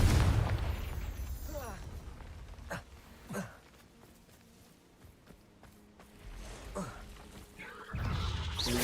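A Confringo fire spell bursting in the Hogwarts Legacy video game, with a couple of booming explosive hits followed by footsteps and rumble as a voice speaks.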